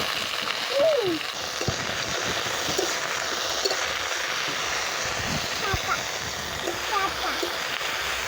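Eggplant and vegetable stalks fry in hot oil in a pan for a village-style dish, a steady hissing sizzle throughout, with a few clinks and a person talking intermittently over it.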